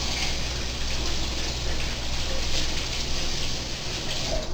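Water runs from a kitchen tap as a finger is rinsed under it during coconut shrimp preparation, a steady close hiss and splatter of flowing water that continues unbroken for several seconds without talk.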